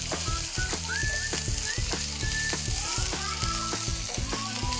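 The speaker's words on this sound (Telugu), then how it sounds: "ఇప్పుడు ఇందులో ఉల్లిపాయ ముక్కలు వేయిద్దాం" Chopped onions fry in hot oil with mustard seeds and dried red chillies for a tomato-onion chutney: a loud, dense, continuous sizzle broken by regular scraping strokes of stirring and a few faint squeaks.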